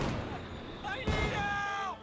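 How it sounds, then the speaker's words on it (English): A pack howitzer fires in a video game battle, a single heavy boom landing mid-clip under steady combat noise, with voices talking over it. "Pack howitzer firing away at that machine gun."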